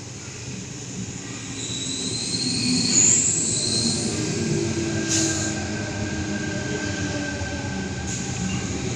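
A suburban passenger train approaching platform 4 at Blacktown station, a loud sustained rumble with squealing wheels and high whines building and easing as it passes close by.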